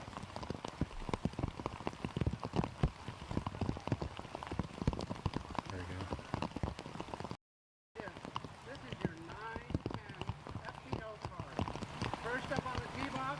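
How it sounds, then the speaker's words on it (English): Rain falls steadily on the course during a disc golf tournament, a dense patter of drops mixed with spoken commentary, briefly cutting to silence midway before the shower resumes. "here's the rain"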